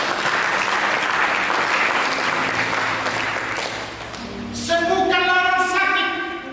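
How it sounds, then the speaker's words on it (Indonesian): Church congregation applauding during an Indonesian sermon, a dense, steady wash of clapping for about four seconds that thins as music with sustained tones rises at the end. "Mari berikan tepuk tangan."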